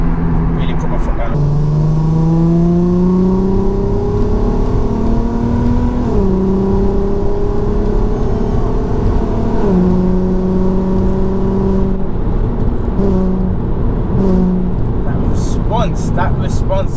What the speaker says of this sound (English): So we're gonna keep driving a bit and really put my foot down.